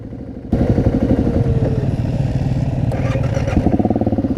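Motorcycles ride around an adventure bike course at a festival, one engine rumbling close after a sudden start, with a rhythmic throbbing exhaust and passing engine noise in the background.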